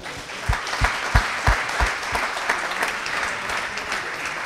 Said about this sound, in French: Eh bien, voilà, bravo, on peut l'applaudir.